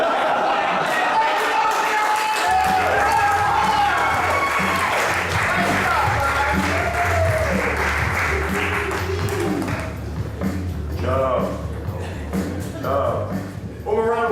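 Audience applause and cheering fill a comedy show venue, loud and sustained, with crowd noise and voices mixed in before thinning toward the end.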